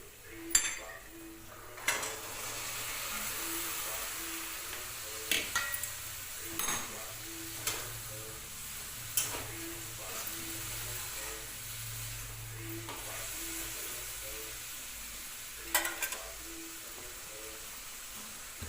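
Chickpeas frying in a spiced masala in a home kitchen pan: soft sizzle with repeated metal scraping and clinks of a spoon stirring against the pan, steady and close, a faint voice in the background.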